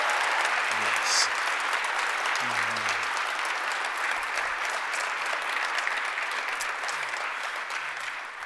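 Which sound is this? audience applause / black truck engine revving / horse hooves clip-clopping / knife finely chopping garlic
audience applause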